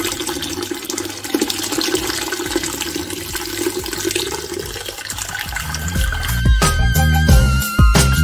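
Wort pouring and dripping from a lifted mash bag into the kettle while homebrewing a pineapple weizenbock, a steady close splashing of liquid that grows heavier and more broken toward the end.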